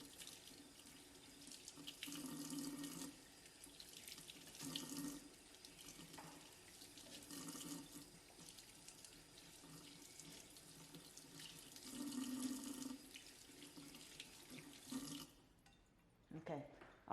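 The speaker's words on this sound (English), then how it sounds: "I'm just rinsing it out to boil it really quickly." Tap water runs into a kitchen sink while beef chunks are rinsed for Nigerian ayamase sauce, a steady close splashing stream that swells and dips with handling, then cuts off near the end.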